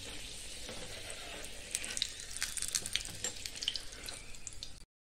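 Puri frying in hot oil in a kadai, a continuous close sizzle and bubbling crackle that holds steady for about five seconds before cutting off, with no talk.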